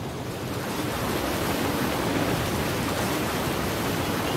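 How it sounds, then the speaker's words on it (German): Ocean surf in the video game Spore, a steady broadband wash of waves rolling in, close and fairly loud, continuous without breaks and with no voices. "Das ist das Meer."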